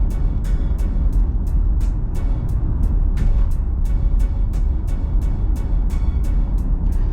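Steady road rumble inside a moving 2022 Kia EV6 Wind AWD, with a tripod in the back making a light, regular metallic ticking rattle roughly twice a second in the background.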